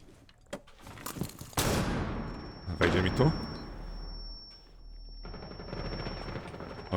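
Bursts of gunfire in Rainbow Six Siege crackle with rapid shots and thuds, mixed with a faint steady tone and some indistinct background voices.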